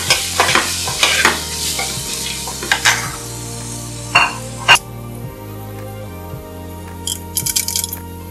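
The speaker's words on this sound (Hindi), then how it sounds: "मीडियम फ्लेम पे हमने ये सारी vegetables medium to high flame पे हमने फ्राई करनी है" Mixed vegetables, including julienned carrot and chopped green chilies, stir-fry in oil over medium to high flame for chop suey, with a steady sizzle, scraping strokes and clinks of a utensil against the pan, and low background music underneath.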